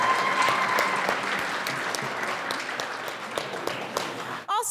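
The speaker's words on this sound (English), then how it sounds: "I just want everyone here to give a big round of applause for all of our performers this evening." Applause for open mic performers fills the room, loud and continuous, then tapers off sharply near the end.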